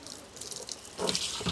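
Tap water pours into a drum on a farm meant for watering chickens, a steady hissing splash that grows fuller and louder partway through, close by with no voices.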